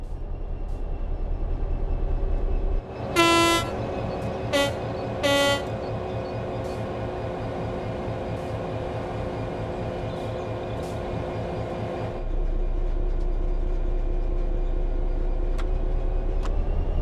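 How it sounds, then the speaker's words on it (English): An electric train powering up under throttle in Train Sim World 3 gives a steady, loud traction hum throughout, with a few short horn toots early on. No one speaks. "Apply some throttle to get the train moving."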